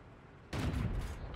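In the video game World of Tanks, a single loud, booming tank cannon blast erupts suddenly after a quiet hum, its heavy rumble lingering to the end.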